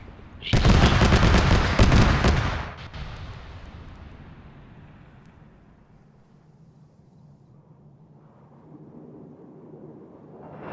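Gunfire and explosions in the ArmA 3 military video game, a dense roaring burst of heavy firing for about two seconds that decays into a long rumbling tail and low background rumble.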